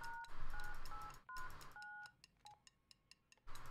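Telephone keypad tones in the video game Dr Langeskov, The Tiger, and The Terribly Cursed Emerald, with a series of short DTMF beeps of uneven length and spacing, fairly quiet and close, followed by softer faint ticks.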